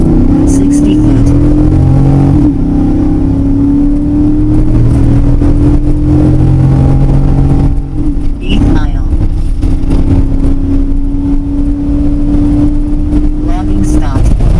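A V8-swapped Nissan Pathfinder with a Volant Powercore cold air intake launches on a quarter-mile run. Its engine drone climbs steadily and loudly in pitch, with a brief dip around the middle that sounds like a gear change.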